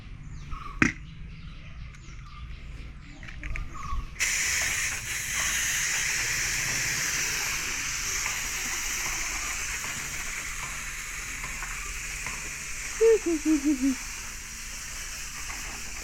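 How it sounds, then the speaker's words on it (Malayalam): Soap water sprayed onto a motorbike during a wash makes a steady, close hiss of spray that sets in after a few seconds of quieter handling, broken near the end by a few short squeaky tones. "ഇനി സോപ്പ് അടിക്കൽ."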